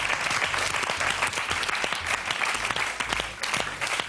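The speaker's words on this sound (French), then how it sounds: "Alors on laisse Ben savourer ses applaudissements bien mérités." A studio audience applauds a comedian during a French comedy television show, with dense, steady clapping that stays loud and lively throughout and no voices over it.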